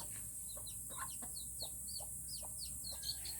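A backyard chicken clucks in a quick run of soft, close calls, several short clucks in a row against a faint hiss of background noise.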